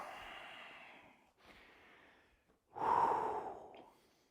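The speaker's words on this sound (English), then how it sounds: "Take a deep inhale and a full exhale." Slow, deep breaths during a yoga breathing exercise in a stress and fatigue class: a long soft exhale, a quieter breath, then a stronger, fuller exhale, all close and with no talking.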